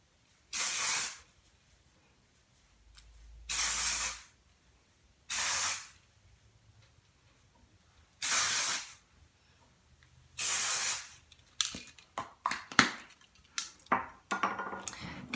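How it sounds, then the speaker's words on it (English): Texture spray hisses from an aerosol can onto hair in five short bursts separated by quiet pauses, followed by faint clicking and handling noises. "I'm going to put a little texture spray in."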